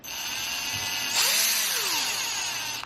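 A Tacklife power drill with speed control runs continuously at close range. Its high whine shifts pitch partway through as the speed changes, with no speech.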